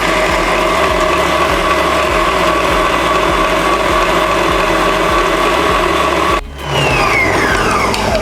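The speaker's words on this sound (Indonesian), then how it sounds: "ini prosesnya kita aduk sampai mengembang atau kental dan berjejak atau soft peak ya" An electric mixer whirs loudly and steadily as it beats cake batter for steamed chocolate-filled mooncakes toward soft peaks, with a rhythmic mechanical churn, then a brief cut-off and restart near the end.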